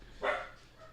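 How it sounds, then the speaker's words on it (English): A single sharp dog bark, close and loud, rising quickly from a quiet background and fading out. "You barking so loud for?"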